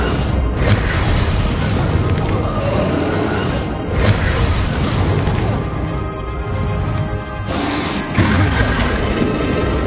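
A Bombarda spell explodes in Hogwarts Legacy on PS5, a loud, continuous booming blast with crashing rumble, dense and close, swelling in a few surges across the whole stretch.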